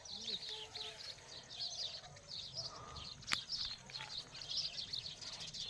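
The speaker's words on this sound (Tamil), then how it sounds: "சிட்டுக்குருவி இங்கே நிறையா இருக்குங்க." Many sparrows chirp in a rapid, continuous chatter near rice paddies in a rural area, faint and somewhat distant, with a brief sharp click partway through.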